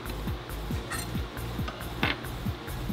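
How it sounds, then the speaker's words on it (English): A rifle bolt rotating closed on a headspace go gauge gives a close, quiet run of small metallic clicks and ratcheting scrapes, repeated in quick succession over a few seconds. "stick it into the cam pin hole and try and rotate the bolt closed."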